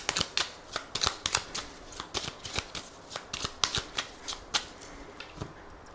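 A deck of 32 playing cards being shuffled during a card reading: a quick, uneven run of crisp riffling snaps and flicks, close and clear, with no talking.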